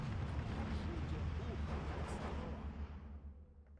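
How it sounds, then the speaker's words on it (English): Artillery shells landing in the wargame Steel Division 2, a deep rumbling barrage of heavy blasts rolling together at a distance, then fading away toward the end. "That artillery hit well"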